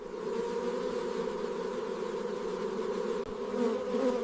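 A dense, steady hum of many bees buzzing together, close and continuous, with no voices.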